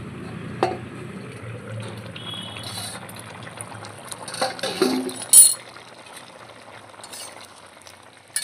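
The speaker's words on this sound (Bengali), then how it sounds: "ঢাকাটা একটু খুলে নিচ্ছি।" A lid is lifted off a cooking pot of Bengali egg curry with potato and pointed gourd, giving one bright metallic clink over a soft simmering bubble and quiet kitchen background.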